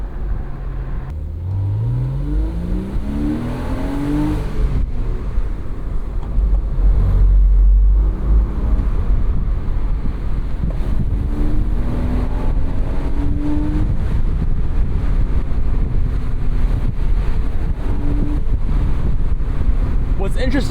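A first-generation Porsche Boxster drives top down on a winding San Diego road, engine revving and shifting through gears, wind rushing over the microphone, close and steady throughout.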